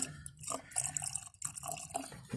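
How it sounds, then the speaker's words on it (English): Water splashes and trickles steadily as it is poured into a Volkswagen Polo's coolant reservoir close by, stopping abruptly at the end. "I'm just topping that off with a little bit of water"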